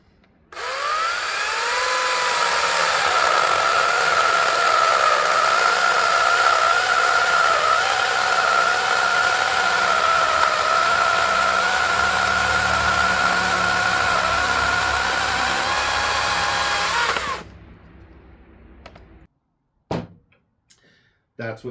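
An Ego CS1201 battery top-handle chainsaw with a full chisel chain cuts through a 7 or 8 inch piece of oak, a loud close steady high whine under load for about seventeen seconds, then stopping abruptly with a few clunks after.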